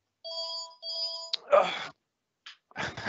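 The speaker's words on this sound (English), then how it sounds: "And of course, nobody's picking up the phone." A phone rings in a room during a technical talk on SQL Server performance tuning, with two sustained tonal ring bursts followed by a short click, then noisier sounds and brief voices.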